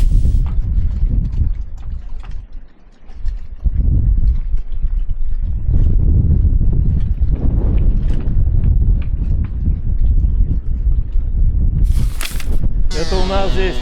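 Strong wind blows across a sheltered harbour, giving a loud, continuous buffeting roar with gusty surges throughout and a brief harsh rush toward the end.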